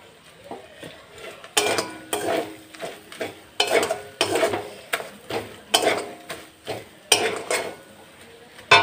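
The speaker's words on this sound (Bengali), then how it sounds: "ফুটছে ফটফট করে, ফটফুটি আছে।" Fish oil frying and spluttering in a pan, with repeated loud crackling bursts and pops, interleaved with scraping and clinks of a utensil stirring against the pan, close and continuous.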